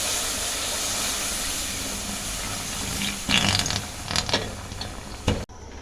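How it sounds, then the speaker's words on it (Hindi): Milk poured into melted sugar over a low flame while making suji kheer with ghee gives a steady, loud hiss. A few sharper bursts come near the end before the sound cuts off abruptly. "अब हम इसको बिल्कुल स्लो फ्लेम करके मिल्क ऐड कर देंगे।"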